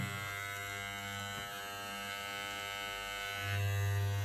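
A freshly oiled Wahl Home Pro electric hair clipper runs steadily with a close, even buzzing hum that grows slightly louder near the end, its blade being moved up and down.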